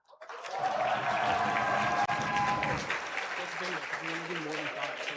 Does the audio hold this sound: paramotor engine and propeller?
no